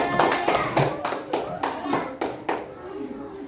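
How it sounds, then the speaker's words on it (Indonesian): A short round of clapping hands, several quick claps in a loose rhythm, with children's voices in the background. "tepuk tangan untuk teman-temannya."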